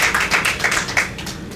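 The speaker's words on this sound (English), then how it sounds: "a big round of applause for all of us" A short burst of clapping with many quick, overlapping claps at a steady loudness, like a small crowd applauding.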